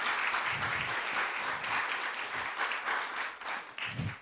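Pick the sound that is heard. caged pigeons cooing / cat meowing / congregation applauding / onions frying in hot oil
congregation applauding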